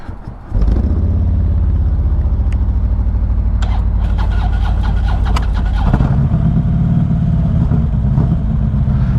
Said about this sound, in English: we're about to ride some street glides